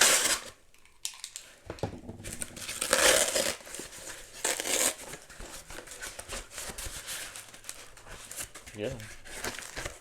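Crinkly plastic wrap torn and crumpled off Criterion 4K UHD Blu-ray cases, close to the mic, with rustling bursts over about ten seconds and a brief word of speech.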